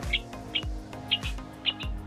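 Hand-fed African lovebird chick giving a few small, high chirps in an even rhythm, close and soft, with low thumps in between.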